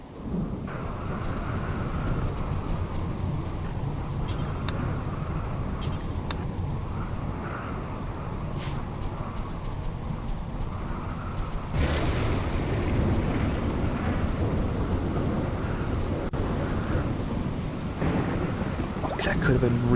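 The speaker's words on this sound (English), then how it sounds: "Is that the rain? That's the rain," Steady rain with rumbling thunder from a storm in the video game RimWorld, a dense continuous wash that swells louder partway through, with no talking over it.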